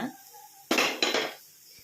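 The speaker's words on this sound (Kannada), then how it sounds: "ಇವಾಗ ಸರ್ವಿಂಗ್ ಬೌಲ್ಗೆ ಹಾಕ್ತಾ ಇದ್ದೀನಿ" Raw banana dry fry scraped and tipped into a serving bowl, giving two quick, close metallic clatters of utensil on dish after a quiet start.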